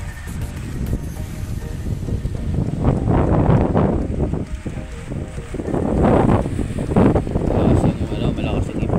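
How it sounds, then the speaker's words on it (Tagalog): Strong wind roars steadily outdoors for the whole stretch, loud and gusty, with rumbling buffeting that swells around the middle and again near the end. "Malakas ang hangin."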